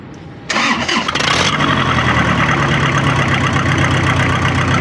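An Isuzu 4JG2 diesel engine with a misfire and vibration fault cranks briefly and catches on the first try, then settles into a loud, steady, close idle with a faint uneven beat.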